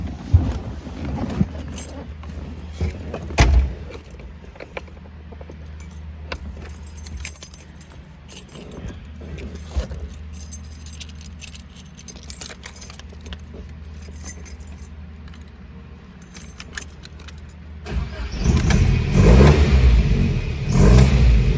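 A 1969 Datsun 2000 Roadster engine cranks and catches, idles with a steady rumble, then revs up loudly near the end.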